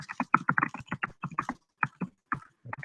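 Irregular bursts of quick clicks from typing on a computer keyboard, close and fairly clear, with short pauses between clusters of keystrokes.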